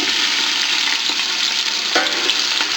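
Garlic and onions sautéing in hot cooking oil for ginataang sitaw at kalabasa; a loud, steady close sizzle with a brief crackling flare as more goes into the pan.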